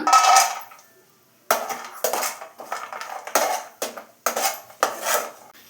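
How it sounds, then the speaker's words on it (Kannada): Metal spoon clinks and scrapes against a pan while dry fruits fry in ghee for shavige payasa, in a rhythmic series of stirring strokes; close and clear, with no talk. "ಒಂದು ಪ್ಯಾನ್ಗೆ ತುಪ್ಪ, ಸ್ವಲ್ಪ ಡ್ರೈ ಫ್ರೂಟ್ಸ್ ಹಾಕೊಂಡು ಫ್ರೈ ಮಾಡ್ಕೊಳ್ಳೋಣ"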